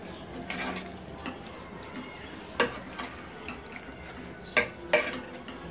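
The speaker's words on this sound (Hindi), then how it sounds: "टमाटर डालेंगे, इसको अच्छे से मिक्स कर देंगे और टमाटर सॉफ्ट होने तक चार पाँच मिनट इसको वापस से भूनेंगे हम" Minced meat with tomatoes for keema matar aloo frying in a pan, a steady sizzle under several clear scrapes and clinks of a spoon stirring against the metal, close by with no talking.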